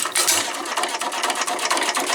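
An engine with blowby runs at its lowest speed, giving a fast, even mechanical clatter with hissy, ticking texture, loud and close with no voices.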